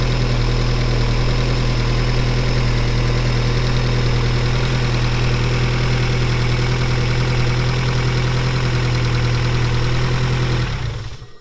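A turbocharged Mazda MX-5 Miata engine runs steadily at idle, a loud, close, even drone with a faint knocking texture throughout, then cuts off abruptly near the end.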